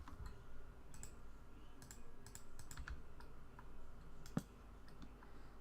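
Quiet clicking of keys on a computer keyboard in an irregular rhythm of short bursts, with one slightly sharper click near the end.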